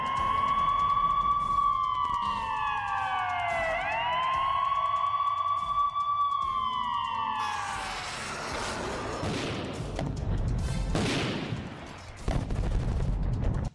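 A loud wailing air raid siren rises and falls in long sweeping tones, then gives way to heavy rumbling and crackling noise toward the end.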